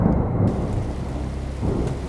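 Thunder rolling through a storm in the horror game Hollowbody, a heavy low rumble over steady rain, swelling again near the end.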